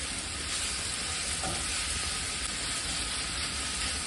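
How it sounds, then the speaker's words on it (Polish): Carrot and onion stewing together in a pan for Ukrainian borscht give off a steady, close, even sizzle that runs unbroken throughout, with no voices. "Teraz dodajemy do cebuli marchewkę i tuszymy znowu to razem przez około 2-3 minuty"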